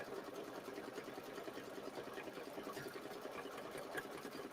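An embroidery machine with a single needle stitches a mini-quilt, producing a quiet, even mechanical whir with fast regular needle pulses, steady and continuous at close range with no talking.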